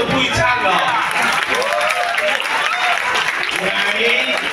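Audience applause and crowd noise at a live singing performance, steady clapping running continuously under excited voices and chatter.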